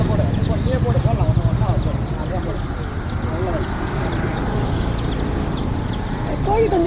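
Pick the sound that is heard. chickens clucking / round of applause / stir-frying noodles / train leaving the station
chickens clucking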